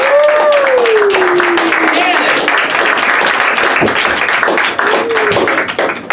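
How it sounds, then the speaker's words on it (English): Studio audience applauds a guest on a late-night comedy show, dense clapping and cheering sustained throughout with a voice speaking over it. "I want you guys to give a big PRC round of applause to Mr. Adam Bound Levinson"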